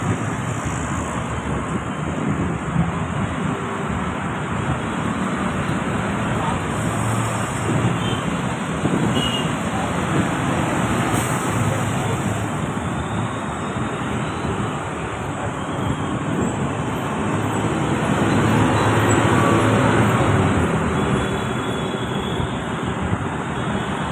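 Dense, steady road traffic noise in a Pune jam, with a continuous rumble of idling and creeping engines, close and fairly loud, and brief indistinct sounds rising from the mass of vehicles.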